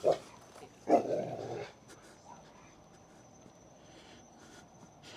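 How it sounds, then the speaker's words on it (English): A dog gives two short barks close by at the start, followed by quieter snuffling and faint background hum. "Some dog doing his job, saying hi."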